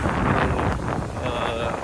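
Steady wind gusting across open farmland near a coconut heap and freshwater area in Navatkuli, Jaffna, buffeting the microphone with loud continuous rumble throughout.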